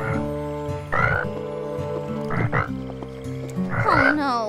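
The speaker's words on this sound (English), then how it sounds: "Tad, doing his night croaking." A cartoon frog croaks at night in repeated loud, bubbly bursts over a steady musical background, with several distinct croaks spread across the stretch.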